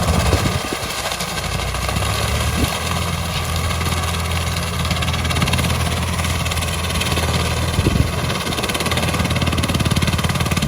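A Swaraj 744 tractor powering a banana stem cutting machine through dead banana plants in a field, a loud, continuous engine drone close by with low thumping and a steady mechanical whine, with no voices.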